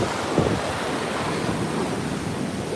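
Surf rolling onto a beach in a steady, broad wash, with gusts of wind buffeting the microphone throughout and no voices heard.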